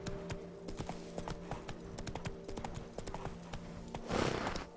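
Rapid, rhythmic clip-clop of horse hooves while riding in The Witcher 3: Wild Hunt, crisp and close with a brief swell of noise near the end.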